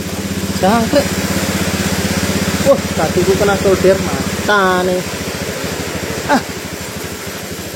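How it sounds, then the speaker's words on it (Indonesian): A Honda Beat FI scooter with a fault that makes it stall, its engine starting and settling into a fast, steady close-up idle with a few small revs, while someone talks over it. "Nah, ini motor nyala dengan tekanan 30-an."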